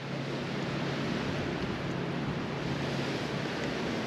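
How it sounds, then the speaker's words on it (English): Steady, loud wind buffets the microphone at a hatchery fishing spot, a constant broadband roar with no letup and no talk. "This wind is not that friendly."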